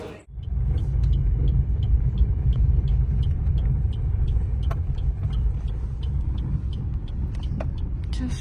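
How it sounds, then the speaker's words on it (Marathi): A car engine starts with a brief crank and then settles into a steady, continuous rumble as the car pulls away and drives on, with faint clicks and knocks on top. "गाडी स्टार्ट करते"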